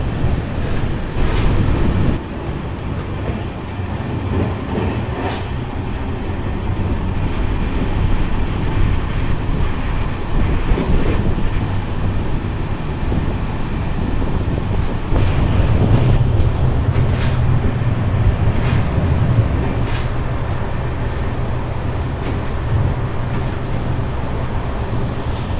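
A Mumbai–Pune express train rushes past near Chikhli, heard from a moving passenger coach as a loud, continuous roar and rumble of wheels and carriages that holds steady throughout.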